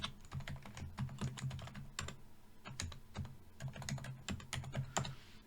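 Close, clear clatter of a computer keyboard being typed on, irregular quick keystrokes with a few heavier key presses, no speech.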